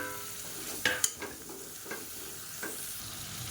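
Tomato, green chilies, mint and coriander frying for biryani, with a few sharp sizzles and clatters of stirring at the start, then a softer steady sizzle continuing alone.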